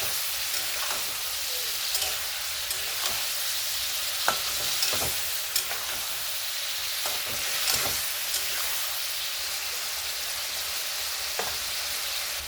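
Mutton pieces frying in a pan with salt and turmeric give a steady, bright sizzle throughout, with occasional clicks and scrapes of stirring; no one speaks.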